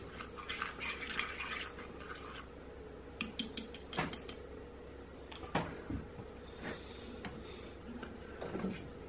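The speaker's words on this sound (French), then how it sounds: "je mets cette couleur à broyer directement à l'aide du pilon dans mon mortier" Paint pigment being ground with a pestle in a mortar while preparing wax tempera, giving irregular scraping and clicking strokes over a steady low mechanical hum.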